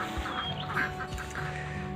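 Egg-laying ducks on a duck farm quack in a busy, overlapping jumble, several birds calling close by over a constant background hum.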